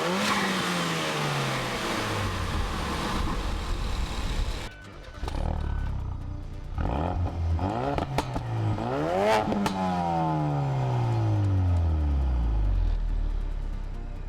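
A Ford Focus RS with a direct-injection 2.3-liter EcoBoost inline four-cylinder and twin-scroll turbocharger revs and accelerates through several gears, pitch climbing and dropping with each shift, with crackles and pops on lift-off, close and loud throughout.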